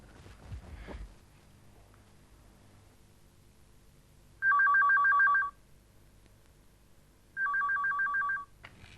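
Two bursts of a telephone ringback tone on an outgoing call, each about a second long and spaced a few seconds apart, with a faint rustle at the start and quiet room tone in between.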